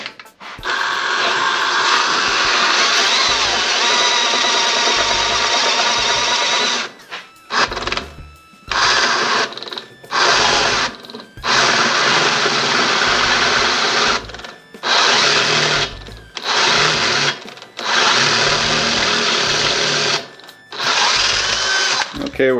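A power drill whines loudly in long sustained runs, broken by several short stops and restarts, grinding steadily as it bores through metal.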